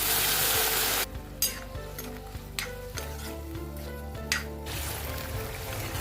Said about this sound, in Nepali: अब यसमा अघि उसिनेको केराउ हाल्छु म चाहिँ।